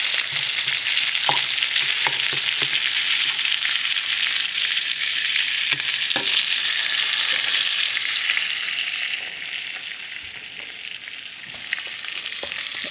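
Lamb rib chops fry in unsalted butter in a pan with a loud, continuous hiss and sizzle, broken by occasional pops and crackles, which eases slightly toward the end.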